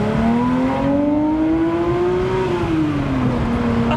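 A modern Porsche sports car pulls away from Zumbach, its engine note climbing steadily under acceleration with a strong, continuous tone that rises and then eases back slightly, close and loud throughout.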